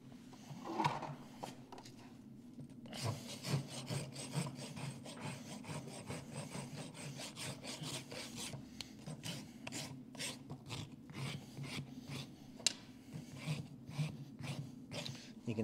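A rasp files a horse's hoof during a balanced trim on a hoof with a bleeding quarter crack, giving repeated scraping strokes in a steady rhythm, close and fairly quiet, with no talk.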